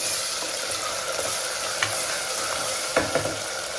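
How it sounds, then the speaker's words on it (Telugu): Onions fry in a pan with ginger garlic paste, a steady dense sizzle with a few soft stirring knocks, close and continuous with no voices. "ఆనియన్స్ ఫ్రై అవుతున్న దానిలోనే మనం అల్లం వెల్లుల్లి పేస్ట్ కూడా ఒక స్పూన్ వేసుకున్నామండి"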